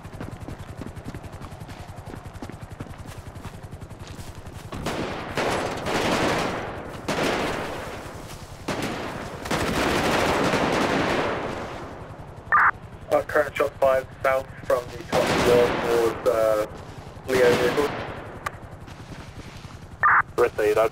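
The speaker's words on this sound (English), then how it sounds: "Active shooter is fully automatic fire." Bursts of fully automatic gunfire during a GTA roleplay police shootout, rapid rattling volleys coming in short clustered strings, mixed with radio chatter and a voice talking between the bursts.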